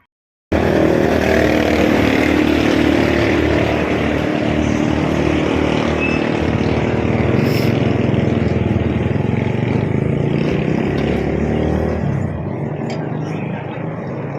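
Engine running for an exhaust check, a loud close steady motor drone with a rough buzzing edge that starts abruptly and holds evenly, easing slightly in level near the end.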